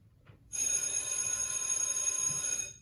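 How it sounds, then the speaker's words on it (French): Electric school bell ringing at the end of classes, a sudden loud continuous metallic ring that starts abruptly and holds steadily for about two seconds, heard alone. "La fin des cours sonne."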